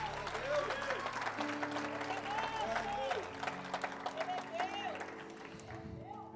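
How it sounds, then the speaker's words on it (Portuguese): A church congregation applauds during a service, a dense spread of clapping mixed with raised voices and tonal sound, held at a fairly low level throughout. "Você precisa aplaudir Jesus por isso"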